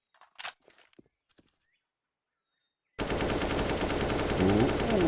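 Gunfire in Counter-Strike on the map Ancient: after a few faint clicks and taps and a silent gap, a loud, continuous burst of rapid automatic shots fills the rest of the clip.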